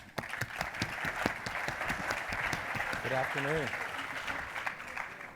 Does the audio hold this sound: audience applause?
yes